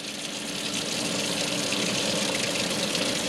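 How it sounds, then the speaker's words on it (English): Steady running water from a lab tap pours continuously at close range, a broad even gush with no pauses, used for rinsing a vial and sample during an aspirin synthesis filtration. "just let the water run for a few minutes"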